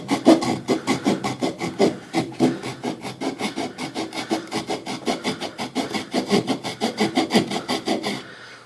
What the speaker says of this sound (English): Happen to have a piece of firewood standing by right here to give this saw a try.